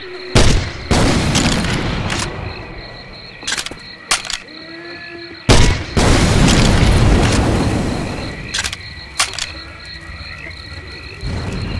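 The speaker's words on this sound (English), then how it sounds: "Hell yeah! Grenade launcher!" Grenade launcher explosions in the video game Left 4 Dead 2 swamp-level setting come as two loud, booming blasts with rumbling decay, separated by sharp gunshot cracks and game sounds.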